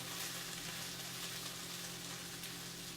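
Tofu frying in a pan, giving a dense, even sizzle with a faint steady hum underneath; no voices break the close, continuous crackle.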